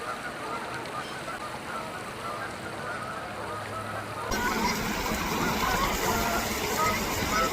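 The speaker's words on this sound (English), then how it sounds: "We got a goose fight over there." Geese honk during a scuffle among the flock, harsh calls rising over a steady wash of outdoor noise that grows louder partway through, with a voice talking in the background.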